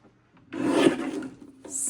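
Cardstock is trimmed on a paper trimmer in a card-making craft session, giving a single short scraping slide of the blade that lasts under a second, close and fairly quiet.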